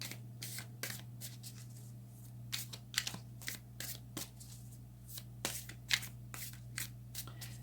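Tarot cards being shuffled by hand, a series of quick papery riffles and slaps in irregular bursts, close and fairly quiet over a low steady hum, with no talking.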